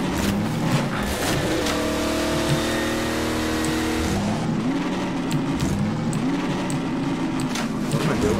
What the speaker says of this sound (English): Hear that engine roar to life.